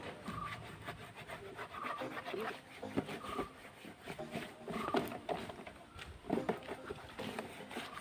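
A case is scrubbed by hand with shampoo, giving a steady, close, gritty rubbing noise that goes on without a break, with a voice talking over it.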